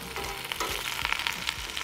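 Garlic heads placed cut-side down with mirepoix vegetables frying in a pan give a close, busy sizzle crackling with small pops and stirring clicks.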